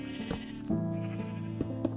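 Minecraft sheep bleating in a game world, several short nasal bleats in quick succession, close and clear with a steady background tone.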